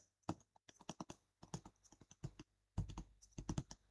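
Quick, irregular clicks of typing on a computer keyboard, close and fairly quiet, in short bursts separated by brief pauses, with no talking.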